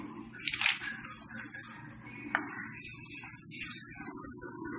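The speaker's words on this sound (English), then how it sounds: "So it's gonna spray the pan." Cooking spray hisses from a can onto a baking pan, two close, bright bursts of spray separated by a short pause, with no talking.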